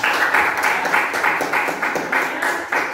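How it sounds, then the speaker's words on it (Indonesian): A classroom of students claps for a presenting group during a teaching practicum, a short burst of fairly sparse applause whose individual claps pulse in an uneven rhythm, close and moderately loud. "Tepuk tangan dulu buat kelompok 2"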